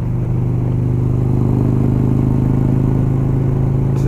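A motorcycle engine idling steadily while a Dyno Tune Power Vision auto tune runs, a loud, close, even low rumble with no voices.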